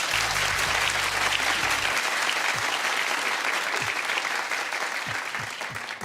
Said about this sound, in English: clap if you're disappointed to see this